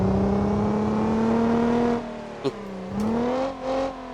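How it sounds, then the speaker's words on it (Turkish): A Nissan Pathfinder engine in the BeamNG.drive driving game revs hard while stuck in off-road mud with rear-wheel drive, a steady high whine that dips briefly, then climbs again, with no one speaking. "Araba bağırıyor ama gitmiyor."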